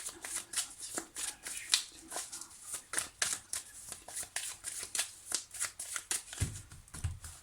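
Tarot cards are shuffled by hand in a close, quiet, rhythmic series of soft riffling and slapping bursts, repeating steadily throughout.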